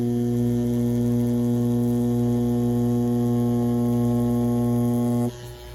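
A Dragonhawk Mast tattoo machine runs with a steady, even electric hum and buzz, close and constant for about five seconds before cutting off abruptly.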